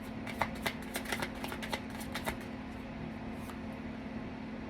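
Tarot cards are shuffled in a rapid series of crisp flicking riffles during the first half, then the handling fades into a steady background hum.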